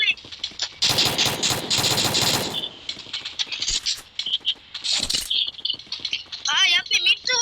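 Rapid machine-gun bursts rattle close and loud in a shooter video game, with a dense volley early on, then scattered shots while players talk over the action.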